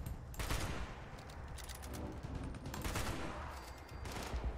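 Rapid gunfire in the post-apocalyptic video game Fallout 76: dense, rattling bursts of automatic shots that run almost without pause throughout, fairly quiet and with no talk.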